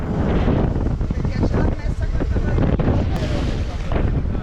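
Strong wind buffets the microphone continuously, roaring over engine and water noise from a moving boat at sea near Delft Island, Sri Lanka.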